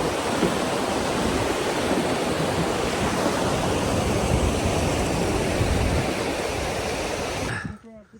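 A Himalayan river rushes loudly and steadily at a crossing on the Langtang Valley trek, a dense broadband roar close by that holds constant for about seven seconds before cutting off abruptly.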